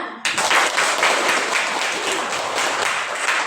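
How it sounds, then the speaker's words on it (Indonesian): A classroom of students bursts into applause after a group finishes presenting its discussion results. The clapping starts abruptly and stays full and continuous, close and lively, with no voices heard over it. "tepuk tangan"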